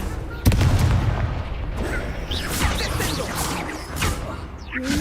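An Incendio fire spell cast in the Hogwarts Legacy video game, a sharp burst followed by several seconds of roaring, crackling fire and impact noise, with other spell effects layered in.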